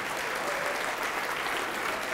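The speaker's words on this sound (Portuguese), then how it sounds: "vamos aplaudir mais ao nome de Jesus" Applause from a church congregation at a religious service fills the room, a dense, even wash of many hands clapping at a fairly soft level without a break.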